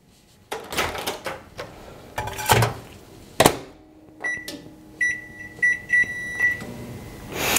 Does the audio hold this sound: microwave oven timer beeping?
yes